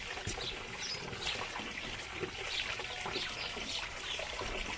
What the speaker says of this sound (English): So we'll turn the water on to get this filling up.